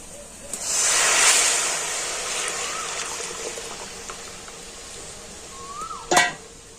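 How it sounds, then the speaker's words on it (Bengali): Strained jaggery heating in a dry wok, a soft hiss rising early and then settling into a low steady simmer, with a brief louder clatter near the end. "আর এবার আমি এই গুড়টা কিন্তু একটুখানি ফুটিয়ে নেব"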